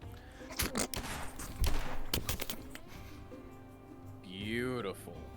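A firing squad volley of gunshots in a sci-fi VR role-play game, sharp loud cracks clustered across the first few seconds amid talk, followed by a lingering rumble and a rising whine near the end.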